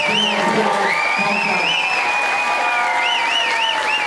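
Crowd at a Superbike race event at Donington Park applauds the Kawasaki Racing race winner, loud continuous clapping with cheers and whoops, while an amplified voice carries over it.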